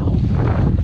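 Steady low rumbling buffets of wind hitting the microphone, loud and continuous throughout with no voices.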